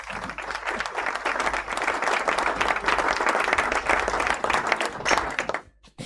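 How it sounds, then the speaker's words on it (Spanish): Audience applause rises to welcome Dra. Teresa Flores, steady dense clapping from a crowd for about five seconds before it tapers off and stops abruptly. "Un aplauso para recibirla a ella, doctora Teresa Flores"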